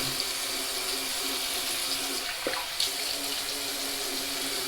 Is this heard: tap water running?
yes